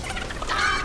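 A chicken in the Fortnite video game gives a short burst of squawking clucks, fairly loud and up close, over steady game background noise.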